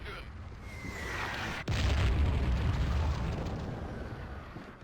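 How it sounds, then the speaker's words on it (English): An artillery shell lands in the Fire Warrior video game with a sudden deep boom, followed by a rumbling blast that fades out over a steady background of battle noise. "the artillery landing around me would be threatening if for 2 seconds I thought it could kill me"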